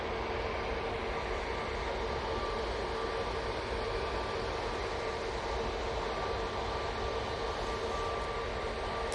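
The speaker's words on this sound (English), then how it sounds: "this Easyjet is going off to Tenors using their A320neo" An Easyjet Airbus A320neo jet departs Manchester Airport, a steady, broad engine roar that holds evenly throughout with no talk.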